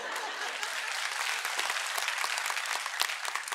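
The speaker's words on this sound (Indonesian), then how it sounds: "Ini tepuk tangan apa enggak sih?" A church congregation applauds during a sermon, a loud, dense, sustained clatter of many hands that stays even from start to finish.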